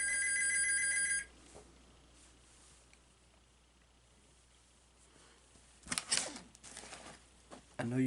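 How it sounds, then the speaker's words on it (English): Phone ringing in another room, a short burst of trilling electronic rings at the start, then quiet room tone with a few clicks and handling knocks later. "I know you heard my phone ringing"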